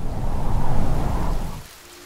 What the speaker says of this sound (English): Rain, dry thunder, wet thunder and sandstorms will all make noise,